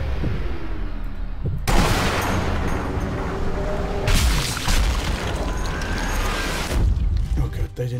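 Heavy rumbling bombing blasts and bursts of gunfire in Sniper Elite V2 fill the clip, a dense, continuous wall of combat noise with loud booms around the middle.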